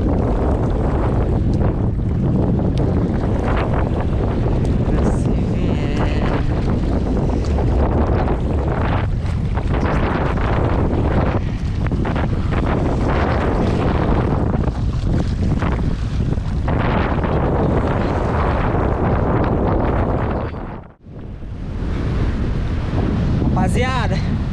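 A strong gale roars across a small jangada raft out at sea among big waves, a loud, unbroken buffeting wind with one brief lull near the end.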